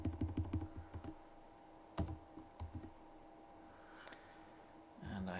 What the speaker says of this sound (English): I'm typing the wrong thing